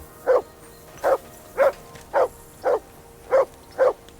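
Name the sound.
dog barking in a video game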